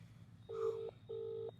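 Two steady push-button phone dialing tones sound one after the other in a comic village-headman sketch, each lasting about half a second over a low background hum, close and clear.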